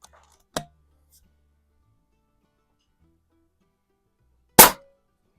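Two sharp, isolated reports from a Pinty Striker .25 caliber bullpup air rifle, one near the start and a louder one near the end, separated by quiet.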